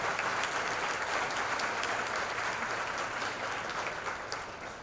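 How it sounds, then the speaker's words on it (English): Audience applause at a hunger action luncheon, a full, steady roar of many people clapping in a room, holding level before tapering slightly at the end. "So I want you to give Scott Lamort of Itasca Bank a great round of applause."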